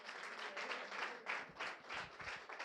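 A church congregation breaks into sustained applause, a wash of many hands clapping in waves, heard at low, distant level.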